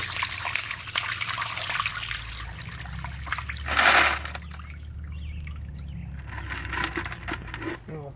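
Water and ice pour out and splash onto a driveway with a sudden louder gush midway, then trickles and drips fade out; no talking.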